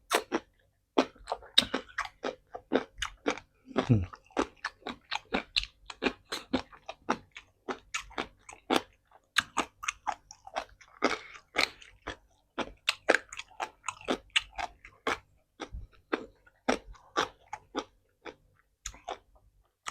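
Someone chews green snake larb with pork, with a rapid series of crisp, close crunches and bites in an irregular rhythm, heard alone without talk.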